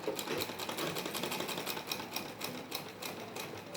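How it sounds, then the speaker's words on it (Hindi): A sewing machine runs steadily, stitching a salwar ponche with a pressed topstitch along the edge; the needle's fast, even mechanical rattle continues without pause, close and moderately loud, with no voices. "ऊपर से एक सिलाई लगानी है दबाती हुई, बिल्कुल बराबर बराबर"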